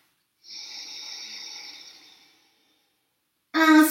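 A long, steady exhalation through the mouth during a beginner yoga breathing exercise, close and soft, lasting about two seconds, followed by silence and then a sudden louder breathy sound.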